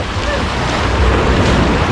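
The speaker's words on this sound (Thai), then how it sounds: "ครับทะเลเดือด ขึ้นแรงมากนะครับ ขึ้นซัดแรงมากนะ" Strong surf churning in a water park wave pool, heard as a continuous loud rushing wash of water with wind buffeting the microphone.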